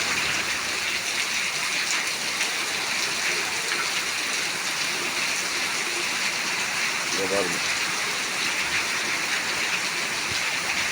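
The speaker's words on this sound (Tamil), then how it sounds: "பாருங்கள் மழை திருப்பூரில் பயங்கரமாக அடித்து தண்ணி ஊற்றிட்டு இருக்குது" Heavy rain pours down in Tiruppur as a dense, unbroken roar of water that stays loud and even from start to finish, with a brief faint voice partway through.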